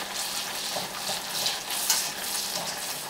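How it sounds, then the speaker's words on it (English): Butter melts in a pan while being stirred, giving a soft, continuous sizzle with faint scraping and bubbling close by. The sound is fairly quiet and steady, with no talking. "we're just going to continue to stir that until the butter is completely melted"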